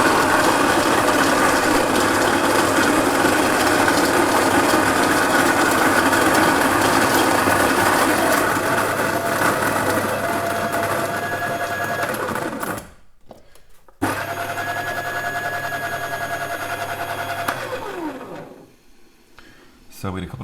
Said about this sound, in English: So I'm just going to grind this really coarse.